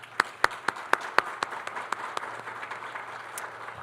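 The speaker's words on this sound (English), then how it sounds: "You want to clap for Lauren?" A small audience at a Kentucky ACTE career and technical education celebration claps. Sharp, distinct handclaps fall in a steady rhythm over a faint wash of clapping, then taper off and grow quieter.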